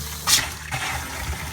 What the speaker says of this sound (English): Run the hot water through there.